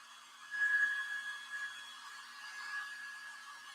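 A hair dryer blows a steady, moderate airy whir while drying paint on an upcycled flea-market chandelier, with no one speaking.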